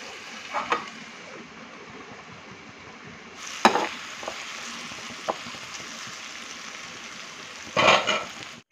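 Chopped tomato pieces fry in a pan for an egg curry, a soft low sizzle broken by a few sharp scrapes and clinks of stirring.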